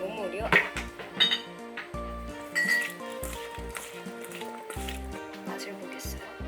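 Vegetables being tossed and mixed with allulose syrup in a bowl, giving soft wet squishing and light clinks of utensil against dish, close and quiet, with occasional background music.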